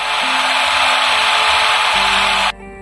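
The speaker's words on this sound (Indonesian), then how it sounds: "Sekarang saya sedang melubangi pipa bekas dengan bor untuk dijadikan batang." A power drill bores holes into a discarded pipe, a steady loud high whine that runs for over two seconds and then cuts off abruptly, leaving a low hum.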